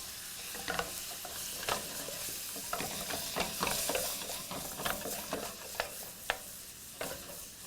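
Shrimp cook in light white wine in a pan as the wine reduces, a soft continuous sizzle with scattered utensil scrapes and taps, fairly quiet and with no voices.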